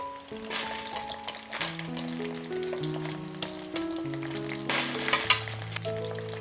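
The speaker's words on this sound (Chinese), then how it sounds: "油热以后，把小葱一切2段放入油锅，" Spring onion pieces cut in two dropped into hot oil to make scallion oil, bright crackling sizzle with a few metallic clinks, while music plays steadily throughout.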